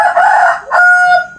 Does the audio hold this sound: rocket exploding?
no